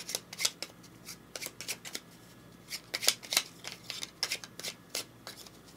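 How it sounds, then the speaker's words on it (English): Cards from the board game Lost Ruins of Arnak get riffle-shuffled repeatedly at a table, a run of crisp, close ruffling bursts in quick irregular rhythm with no talking. "I realize y'all didn't see me shuffle these yet."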